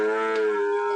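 A young Sahiwal cow at a cattle market gives one loud, close, sustained moo that fills the full second.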